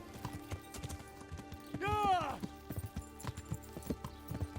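Steady clip-clop of horse hooves trotting in Kingdom Come: Deliverance, with a brief whinny in the middle, over a faint background hum.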